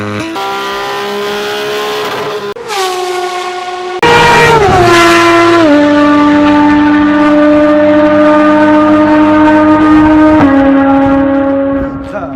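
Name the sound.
Porsche naturally aspirated engine accelerating at full throttle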